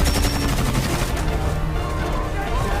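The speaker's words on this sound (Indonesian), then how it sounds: "menunggu aksi tembak-tembakan itu mereda" Heavy gunfire erupts in dense, overlapping bursts, loud and chaotic, like automatic weapons in an action scene with booming low rumble underneath.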